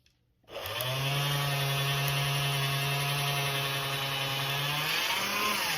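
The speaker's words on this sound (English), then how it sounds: "Place the fold on the rollers and roll through." Folded sheet of polymer clay fed through the rollers of a hand-cranked pasta machine, giving a steady, close mechanical whir with a low drone that runs unbroken for several seconds after a brief silence.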